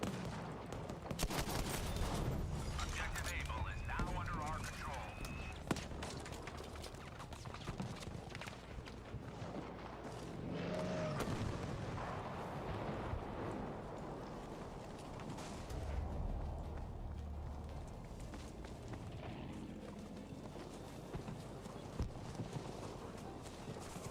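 Gunfire in Battlefield 5 includes shots from a Shellsha rifle, with scattered reports and crackling battlefield noise spread over a long stretch at moderate distance, mixed with other combat clatter.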